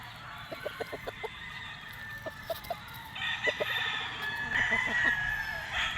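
White Kelso gamefowl bull stags cluck in short repeated bursts at a farm, then crowing rises and overlaps, several birds nearby and fairly loud against a busy outdoor background.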